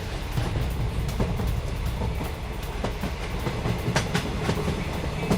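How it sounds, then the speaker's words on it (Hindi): A Russian freight train carrying T-90M tanks rolls along the rails with a steady, loud rumble and repeated clickety-clack of wheels over rail joints, continuous throughout with no voices. "युद्ध क्षेत्र में T-90M टैंक की तैनाती और रूसी रेलवे से भेजे जा रहे टैंक्स की ये तस्वीर आई सामने"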